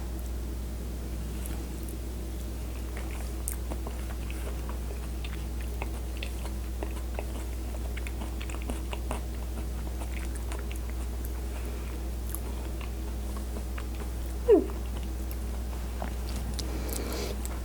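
Steady close chewing of hazelnut crumble with pastry custard cream, soft crunchy bites and mouth sounds running continuously over a low hum, with no talking.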